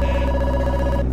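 Halo siren mode on a police Ferrari in the Roblox game, a steady electronic warbling tone with stacked harmonics, loud and continuous for about a second before cutting off.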